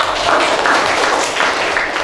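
A classroom of students applauds during an Islamic religious lesson on the Quran and Hadith, producing a steady, dense patter of clapping that stays loud and even for about two seconds with no one speaking.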